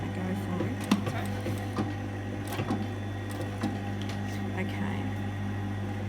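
A home sewing machine runs a short burst of stitches forward, then reverses to backstitch and reinforce a seam on a double jetted pocket. It makes a steady close mechanical whir with light rhythmic needle clicks throughout.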